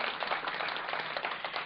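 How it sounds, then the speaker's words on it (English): An audience at an integrative medicine and wellness closing ceremony claps for a speaker, a dense, even patter of many hands, fairly close and steady with no voices over it. "Let's give him a round of applause first."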